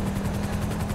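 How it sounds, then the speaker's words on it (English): A police helicopter in GTA 5 circles overhead during an LSPDFR traffic pursuit in Mirror Park, giving a steady, loud rotor drone with a low pulsing chop that carries through the whole second, with no talk. "There's the helicopter, and they're tracking someone."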